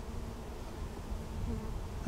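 Honey bees buzzing as they are gathered in a jar for a varroa mite alcohol wash, a steady close droning hum throughout with a brief louder rattle at the very end.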